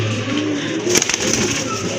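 Fancy pigeons, a male and a female, coo softly in a steady low murmur, with a brief flutter of sharper sounds near the middle; no one speaks.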